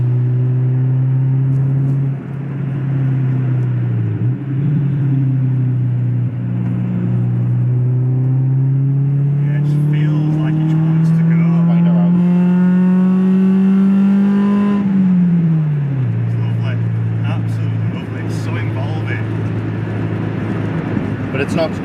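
Honda Civic Type R EK9 engine cruising in fifth gear, a steady low drone from inside the cabin that climbs gradually in pitch as revs build, then drops sharply, with someone talking over it throughout.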